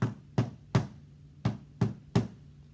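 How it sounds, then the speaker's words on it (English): Six firm knocks on a wooden door, spaced in an uneven rhythm with short pauses, close and clear with nothing else around them. "The wolf knocked on Granny's door with a..."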